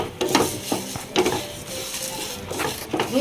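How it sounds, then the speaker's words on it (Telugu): Coriander seeds poured into a pan for dry roasting while making curry leaf spice powder: a few scattered, rattling bursts with a light sizzle, fairly close, in an otherwise quiet kitchen. "ఇప్పుడు నేను ఈ ధనియాలు పోస్తున్నానండి."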